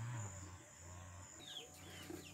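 Backyard hens on a rural farm cluck softly at a distance, with scattered calls over a low, steady outdoor background.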